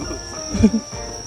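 Insects outdoors in Korea give off a steady, high, thin buzzing drone, with a soft low thump partway through.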